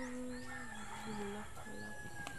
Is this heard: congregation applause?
no